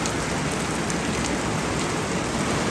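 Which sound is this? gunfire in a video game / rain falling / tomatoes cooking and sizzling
rain falling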